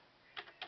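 Fingers typing on a computer keyboard, a few soft quick key clicks close by in quiet room tone, two small clusters of taps near the end.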